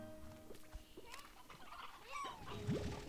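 Elder hen clucking in the video game Slime Rancher 2, short gobbling, chirpy calls scattered over busy game ambience with other creature noises, fairly close and steady in level.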